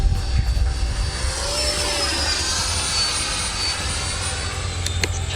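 An RC model jet, an FMS Rafale or Freewing Gripen, flies overhead with a sustained whining ducted-fan roar whose pitch sweeps as it banks and slides past, moderately loud and steady throughout.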